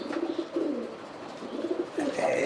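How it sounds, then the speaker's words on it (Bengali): A pair of German copper pigeons coos on a pigeon farm in low, repeated rolling phrases, close by against faint background noise. "এখানে এক জোড়া হলো কোপার কবুতর, জার্মান কোপার"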